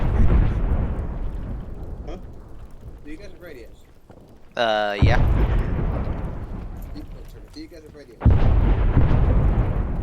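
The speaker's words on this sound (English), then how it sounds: "I can't hear over the artillery" Heavy artillery fire and explosions from the Arma 3 Vietnam game fill the scene as loud, continuous rumbling booms with sharper bursts, nearly unbroken under close voices talking.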